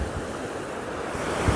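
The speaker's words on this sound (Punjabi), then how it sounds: "ਤੁਹਾਨੂੰ ਸ਼ਾਇਦ ਵਿੱਚ ਆਵਾਜ਼ ਵੀ ਆ ਰਹੀ ਹੋਏਗੀ ਕਿਉਂਕਿ ਇਹ ਸਾਰੀ ਦਰਿਆ ਦੀ ਯਾਨੀ ਪਾਣੀ ਦੀ" Rushing river water in a mountain valley near a bridge, a steady broadband roar filling the short stretch at close range, with no talk over it.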